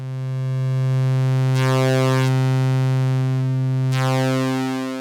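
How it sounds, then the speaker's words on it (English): A Moog synthesizer holds a steady, loud sine-like tone with a faint, slowly shifting sawtooth modulation sweeping through its upper harmonics, sustained alone for about five seconds. "mostly the sine wave from the spectrum with just a slight modulation of that traveling sawtooth."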